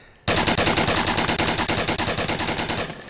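A light machine gun in the VR shooter Onward lets off one long sustained burst of rapid, evenly spaced shots, loud and close, which starts abruptly and runs almost three seconds before cutting off.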